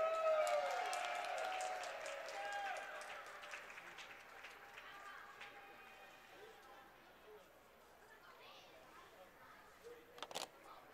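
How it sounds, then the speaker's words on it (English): Crowd applause and cheering at a short track speed skating championship in Buffalo, greeting a young skater in her first 1500 metre race. The ovation starts loud and fades gradually, ending in a few brief sharp bursts. "Let's cheer her on, everybody."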